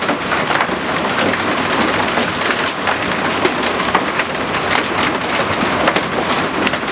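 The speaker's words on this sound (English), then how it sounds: "Look at the hail hitting the water." Heavy hailstorm on a lake, hailstones pelting the water surface in a dense, loud, continuous hiss and patter with no voices.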